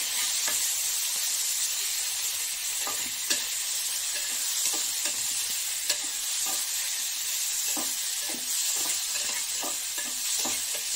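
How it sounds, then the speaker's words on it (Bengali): Chicken pieces fry in butter in a pan, giving a steady close sizzle and hiss with scattered crackles and occasional stirring scrapes throughout, no talking. "চিকেনটা আমার অনেকটাই ভাজা ভাজা হয়ে গেছে"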